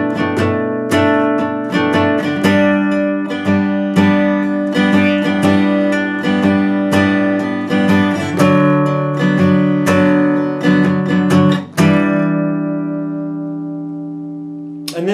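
Guitar strums out the second part of a song's verse, a steady run of chord strokes with regular rhythmic attacks over about twelve seconds, then a final chord left ringing and fading, played alone with no talking.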